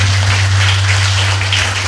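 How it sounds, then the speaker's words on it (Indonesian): A congregation at a Christmas 2022 service in a Pentecostal church in Blitar claps together, a dense steady wash of hands under a strong low electrical hum, loud and unbroken for under two seconds. "Tepuk tangan untuk kita semua"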